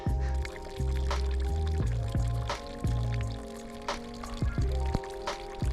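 Running water found while bikepacking on a gravel bike in the Karwendel mountains near Achensee: a steady, close pour of water splashing and gurgling continuously, with some warbling tones over it.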